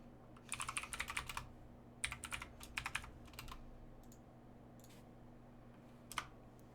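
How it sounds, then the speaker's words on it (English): Quick bursts of typing on a loud mechanical computer keyboard, crisp clacking keystrokes in several short runs with pauses between, close and alone over a low steady hum. "my mechanical keyboard feels really tactile,"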